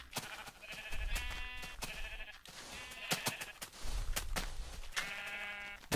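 A flock of Minecraft sheep bleats again and again, four or five distinct baas spaced across the stretch, with footsteps and small thuds between.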